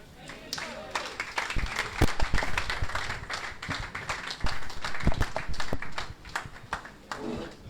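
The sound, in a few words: audience applause for Dr. Fred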